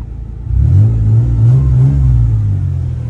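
A nearby truck engine catches and revs, settling into a loud, steady rumble that holds for a few seconds.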